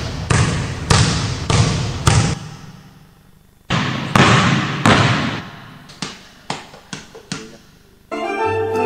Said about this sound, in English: here's the result of dribbling a basketball